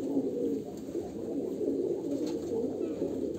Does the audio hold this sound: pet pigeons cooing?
yes